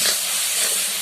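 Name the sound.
spice paste frying in oil for fish curry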